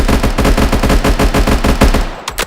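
Rapid, loud automatic SMG fire from a Minecraft Bedrock mod, a dense stream of shots rattling steadily for over two seconds before cutting off, with a couple of faint trailing sounds.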